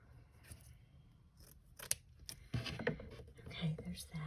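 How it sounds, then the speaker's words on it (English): Scissors snip through lace paper for a journal card, a few close, quiet crisp cuts and paper rustles in the latter half, with faint handling noises before them. "I'm gonna cut this down a little bit."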